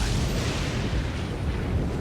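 Lightning strikes in Elden Ring on the Minor Erdtree plateau, a loud continuous rumbling crash with deep booming low end and crackling hiss, sustained without pause and with no voices.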